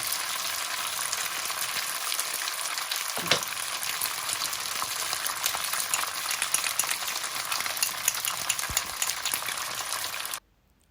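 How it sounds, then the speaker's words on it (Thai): Wide rice noodles stir-fried with dark soy sauce in a pan: a constant loud sizzle with scraping stir strokes and occasional clinks, continuing steadily before cutting off abruptly at the end. "หลังจากที่ใส่ซีอิ๊วดำลงไป เฮาก็ผัด ให้ซีอิ๊วเข้ากับเส้น แล้วก็ผัดต่อไปเรื่อย"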